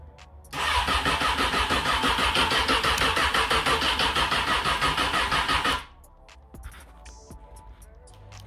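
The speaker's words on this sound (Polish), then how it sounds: "bierzemy się za odpalenie." Honda Hornet 600 PC36 motorcycle engine cranking and firing into a loud, steady running roar for about five seconds, then cutting off abruptly, leaving quiet background with faint clicks.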